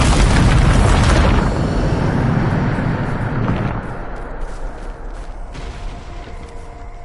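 A Bombarda spell explosion in Hogwarts Legacy lands as a loud, deep boom that fills the start and then rumbles and decays over several seconds into a lingering lower roar.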